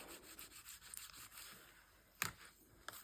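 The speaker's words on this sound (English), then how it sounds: "Give this a good burnish down." Paper rubbed firmly down onto a junk journal page, soft faint scraping strokes in short bursts with one sharper rasp near the end.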